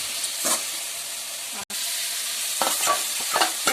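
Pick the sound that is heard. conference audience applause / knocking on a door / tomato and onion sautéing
tomato and onion sautéing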